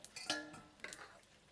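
A metal spoon stirring food in a cooking pot, producing a few light clinks and scrapes over about a second and a half, faint and close with no talking.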